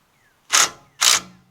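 Two sharp mechanical bursts from a 3/8 impact wrench, about half a second apart, loud and close, hammering at a seized brake on a Craftsman LTS1500 lawn tractor riding mower, each burst followed by a short ringing tail.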